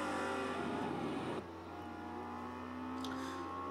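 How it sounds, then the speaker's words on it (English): Ferrari 360 Modena racing around Circuit de Barcelona-Catalunya in Forza Motorsport 4: a loud, high-revving engine whine that drops sharply on a gear change, then climbs steadily again as the car accelerates. "my little Forza Motorsport 4 video of my 360 Modena racing around Circuit de Barcelona-Catalunya"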